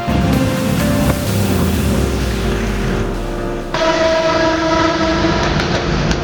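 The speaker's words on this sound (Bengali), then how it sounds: "ট্রেনটি অনেক স্পিডে যাচ্ছিল" A railway train passes at high speed up close, a loud continuous roar of wheels on rail with clattering rhythm and tonal whine, the sound shifting brighter partway through as the cars rush by.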